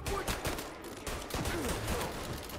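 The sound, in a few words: gunfire in video game Mafia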